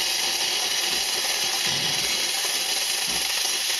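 The steam wand on a RELAXNOW JH5010E espresso machine gives a loud, steady, close hiss with no break for the whole stretch.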